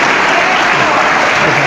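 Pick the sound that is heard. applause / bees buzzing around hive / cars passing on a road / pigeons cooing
applause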